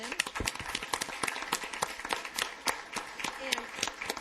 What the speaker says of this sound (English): could we give a round of applause for Lynn?